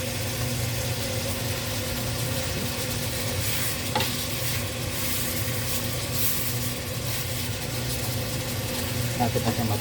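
Beef tapa frying in oil in a pan, a steady close sizzle with occasional stirring and a low background hum throughout.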